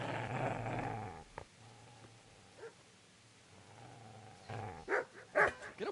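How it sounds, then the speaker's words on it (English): A dog growls in the MW2 video game, a low rumbling snarl at the start that gives way to quieter breathy sounds, then short throaty bursts near the end, close and fairly faint. "Get away, you mutt!"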